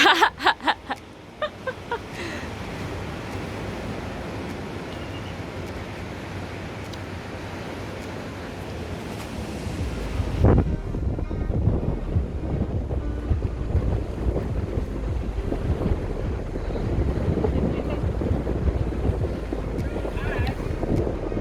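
Steady wind roars and buffets the microphone throughout, with a brief voice early on and a louder gusting rumble in the second half.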